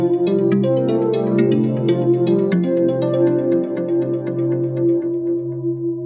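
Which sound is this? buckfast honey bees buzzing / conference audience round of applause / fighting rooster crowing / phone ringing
phone ringing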